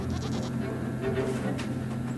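Goats bleating in the video game Blanc, a few moderate bleats rising over a steady ambient music bed, heard without any talking.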